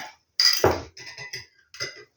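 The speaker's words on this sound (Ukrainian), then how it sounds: "Отак вилочку трошки розмішаю яйце." A fork clinks and scrapes against a bowl while whisking an egg, short quick bursts of stirring, close by with brief pauses between.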